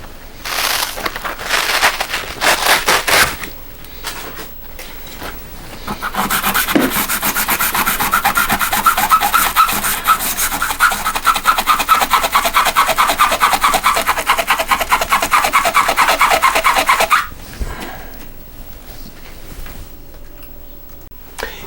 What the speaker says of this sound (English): Using that little sanding block, it seemed to work pretty good.